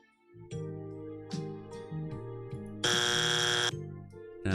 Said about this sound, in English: The buzzer's good, but I don't think I want the buzzer for this.